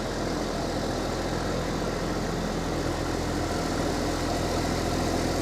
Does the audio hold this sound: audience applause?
no